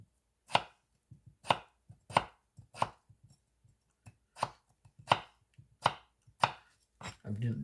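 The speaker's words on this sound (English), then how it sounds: "I'm now cutting potatoes into just thin slices" Knife chopping potatoes into thin slices on a board: a steady series of about nine sharp, close knocks spaced under a second apart, with softer taps in between and a brief rustle at the end.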